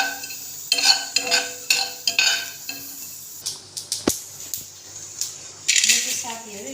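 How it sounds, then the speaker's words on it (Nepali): Whole cloves, pepper, timur, mustard seeds, fennel and cumin fry in a pan for a chicken recipe, with rhythmic clinks and scrapes of a spoon and faint crackling, fairly quiet and close. "ल्वाङ, मरिच, टिम्बुर, तोरी, सौंफ, जिरा सबै सामग्रीहरूलाई चाहिँ यसरी फ्राई गर्दै जाने"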